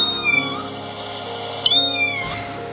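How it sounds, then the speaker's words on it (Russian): A small kitten meows repeatedly up close, several high drawn-out cries with sliding pitch, one sharper and louder call near the middle, heard alone without talking. "Опять где-то котенок мяукает!"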